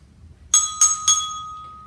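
Bells struck with small mallets in a school instrumental demonstration: three quick bright strikes close up, each ringing with a clear pitched tone that lingers and fades.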